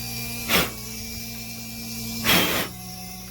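A 3D printer runs steadily nearby, giving a continuous whirring hum with a tonal mechanical whine, broken by two brief louder hissing surges of motor movement.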